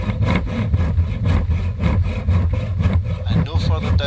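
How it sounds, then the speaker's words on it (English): Repeated back-and-forth strokes of a hand saw rasping through wood while cutting a housing joint, close and steady in rhythm, with a low hum underneath. "The sawing action itself doesn't take much downward pressure."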